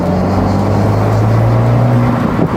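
An Abarth, a rear-wheel-drive project car, accelerates on the road, its engine a loud continuous drone whose pitch climbs slowly, recorded close from inside with no talking.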